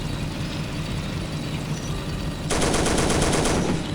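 Tank gunfire in the World War II strategy game Faces of War, during a German tank training mission: steady engine rumble, then from midway a dense, loud burst of rapid machine-gun rattle that continues to the end.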